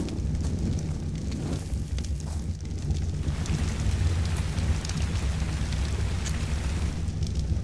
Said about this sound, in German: Wenn es jetzt auch mal aufhören würde zu regnen